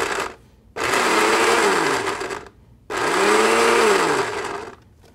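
A blender chops olive salad for muffalettas in two loud, close bursts of whirring motor noise, the pitch dipping and rising within each pulse, separated by short pauses.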